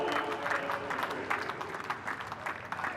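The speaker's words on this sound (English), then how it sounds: "Applaud from his teammates." A cricket crowd and teammates applaud a century by a Trinidad and Tobago batsman during a West Indies versus Sri Lanka one-day international, a moderate, continuous wash of clapping with faint crowd murmur.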